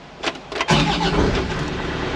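A Cat 307.5 Next Gen excavator engine cranks briefly and fires up, then settles into a steady, close, loud idle rumble with no talk.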